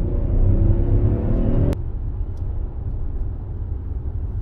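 A 2023 Kia Telluride SX in motion, heard as a steady low engine and road rumble from inside that drops abruptly in level partway through and continues quieter, with no talking.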